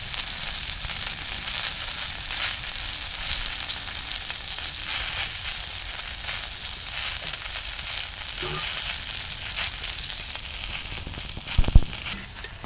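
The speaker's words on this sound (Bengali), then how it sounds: "এবার সেদ্ধ করা আলুগুলোও একটুখানি এইভাবে তাওয়ার মধ্যে ভেজে নেব।" Boiled potatoes fry on a hot tawa with a steady, close sizzle that hisses on unbroken, with a couple of brief clanks from stirring near the end.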